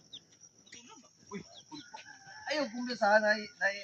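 Chickens cluck and crow close by, a rooster's call rising near the end over a busy farmyard.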